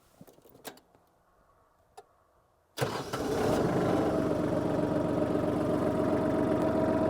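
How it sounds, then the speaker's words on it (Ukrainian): A few faint clicks, then a Kubota KL 23 tractor engine cranks and catches abruptly, settling into a loud, steady rumbling idle close by. "давайте будемо заводити"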